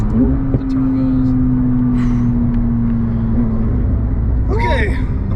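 A turbocharged 1,000 HP McLaren 720S, a black exotic supercar, accelerating hard, with a loud, sustained engine drone holding steady pitch and a brief higher whine near the end.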